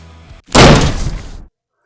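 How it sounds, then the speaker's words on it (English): Heavy wooden barn doors rammed and smashed from their frames, a short thump followed by a loud crashing burst of splintering that lasts about a second and then cuts to silence. "rammed the old barn doors, smashing them from their frames"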